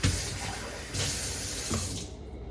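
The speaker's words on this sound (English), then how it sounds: "I rinse my glass" A kitchen tap runs as a glass is rinsed under it, a close hissing splash with two bursts of stronger flow before the water is shut off.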